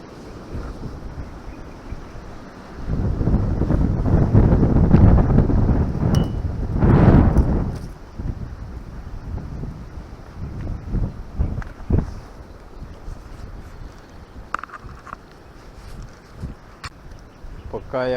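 Wind gusts buffet the microphone outdoors by a river while float fishing with maggot bait, a loud rumbling roar that swells and fades, with someone talking over it.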